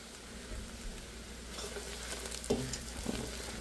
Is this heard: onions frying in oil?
yes